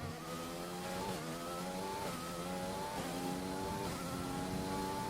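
A Formula 1 car engine in F1 2020 screams through a qualifying lap at Japan, with steady high-pitched harmonics and repeated upshifts roughly every second, loud and continuous with no talk.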